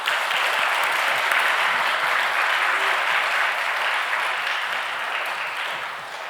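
A church audience gives sustained applause to welcome a speaker, a thick, even roar of many hands clapping that holds steady and then eases slightly toward the end.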